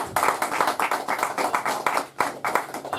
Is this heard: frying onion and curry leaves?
no